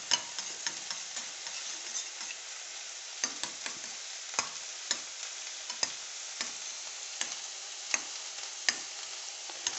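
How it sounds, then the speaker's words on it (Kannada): Eggs beaten in a bowl for egg bhurji while onions fry: quick, irregular clicks of the beating over a steady, close sizzle of the frying, with no talk. "ಈರುಳ್ಳಿ ಫ್ರೈ ಆಗೋಷ್ಟರಲ್ಲಿ ನಾವು ಮೊಟ್ಟೆ ಸ್ವಲ್ಪ ಚೆನ್ನಾಗಿ ಇದು ಮಾಡ್ಕೊಳ್ಳೋಣ, ಕಲಸ್ಕೊಳ್ಳೋಣ."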